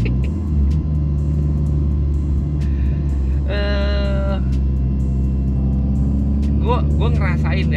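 A car rated over 400 horsepower accelerates while driving, its engine a loud, steady low rumble throughout with brief tonal whines rising near the middle and end.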